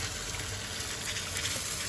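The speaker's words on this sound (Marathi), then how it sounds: "आता मी त्याच्यामध्ये पाणी घालून घेत आहे" Water poured into a pan of freshwater fish curry gives a steady, even gush with a broad hiss across the whole two seconds, fairly quiet and close, with no talking.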